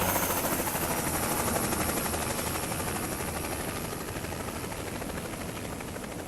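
A helicopter in Euro Truck Simulator 2 thunders overhead with a loud, steady rotor chop and broad roar that holds constant throughout, slightly easing toward the end, with no talking.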